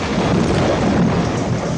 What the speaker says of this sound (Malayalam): മഴ ശക്തിയായി പെയ്യാ, കൂടെ എടുക്കാൻ മറക്കണ്ട